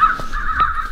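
Crows cawing in the field during a crow hunt, several harsh rhythmic caws close and loud with no talking over them.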